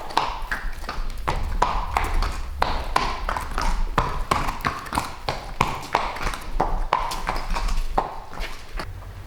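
A gentle former racehorse walks on a farm, its hooves clip-clopping in a steady, close, sharp rhythm on a hard surface throughout.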